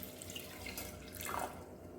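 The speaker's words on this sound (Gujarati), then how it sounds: "ત્યારબાદ તેની અંદર 1 ગ્લાસ જેટલું પાણી એડ કરીશું" A glass of water pours into a pressure cooker in a brief, soft, splashing trickle, quiet and close with no voices.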